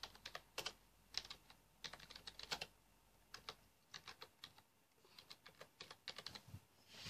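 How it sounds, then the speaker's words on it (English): Quick bursts of typing on a computer keyboard, close and clear, with keystrokes coming in irregular clusters and short pauses throughout. "Let's just type it."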